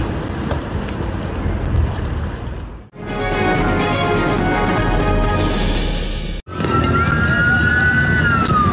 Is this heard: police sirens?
yes